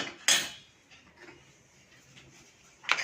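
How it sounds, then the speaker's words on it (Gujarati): A spoon stirring salt, coriander powder and red chilli powder in a bowl: a bright metal clink, then soft faint scraping, then another clink at the end, close and quiet with no voices. "હવે એને આપણે ચમચીથી થોડું હલાવી લઈશું"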